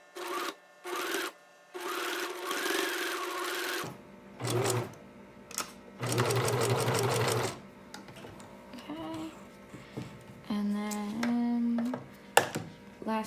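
Sewing machine running in several short bursts and longer runs, forward stitching broken by pauses and back stitching, close and clear with quiet gaps between passes.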